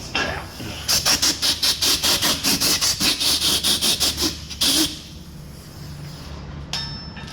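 A drill bites into a stuck M12x1.5 bolt in an aluminum wheel, giving a loud, rhythmic squealing grind in about a dozen rapid pulses, then a quieter rubbing hum.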